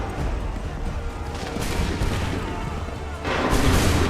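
Musket volleys crackle and boom in Assassin's Creed III, heavy massed gunfire in dense overlapping bursts that swells louder toward the end, with commanding voices shouting amid the shots.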